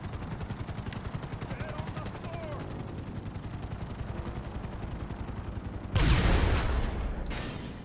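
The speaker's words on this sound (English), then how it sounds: "And we got a chopper because of course we do." A helicopter in GTA 5 thumps with a steady rapid rotor beat throughout, joined near the end by a loud burst of gunfire and rushing noise.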